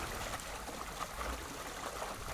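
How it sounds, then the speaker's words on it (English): A sailboat hull glides gently through the water with the engine off, giving a soft, continuous trickling and lapping wash, faint and close, with no voices. "all you hear is the sound of the hull gently gliding through the water"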